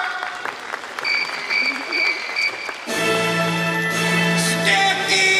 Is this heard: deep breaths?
no